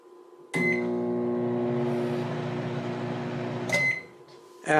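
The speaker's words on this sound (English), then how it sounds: "the hum when the microwave starts up is 1 second to 2 seconds" A microwave oven starts up with a click, then runs with a steady transformer hum for about three seconds before another click and a beep as the hum drops away.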